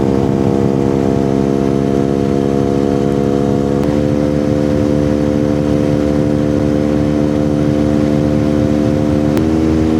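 A QJ Motor SRK 250 RR motorcycle cruises on a Malaysian highway, its engine droning steadily with harmonic tones and a slight shift partway through, loud and continuous against wind noise, with no talking.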